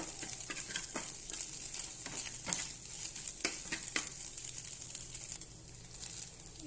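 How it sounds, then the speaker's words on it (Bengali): Egg frying in a pan while being broken up into crumbly scrambled bits, with a bright hiss of sizzling and irregular scraping, stirring strokes of a utensil against the pan, close and steady with no talking. "ডিমটা ভালোভাবে ভেজে আমি ঝুরি ঝুরি করে নেব"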